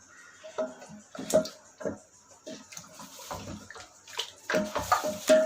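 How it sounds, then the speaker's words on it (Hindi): Heavy beef paya being stirred with spices in a large pot, giving wet sloshing, scraping strokes in an irregular rhythm, fairly close and moderately loud, with no talking. "अब हम इसको हिला लेंगे, तो आराम से हिलाना क्योंकि ये वज़नी है"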